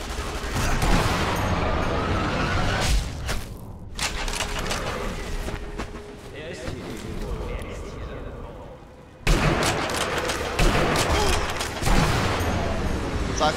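Bursts of rapid gunfire in the video game Sniper Elite V2 crackle and boom repeatedly, broken by a short lull, with dense battle noise throughout.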